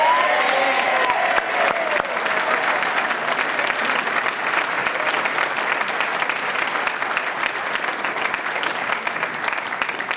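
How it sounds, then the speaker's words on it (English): Convention audience applauding, a dense, sustained wash of clapping from a large crowd, loud and even throughout, gradually tapering slightly toward the end. "So round of applause"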